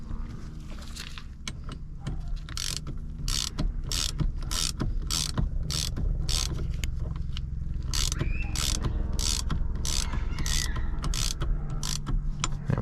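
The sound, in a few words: steering wheel puller being tightened and pulling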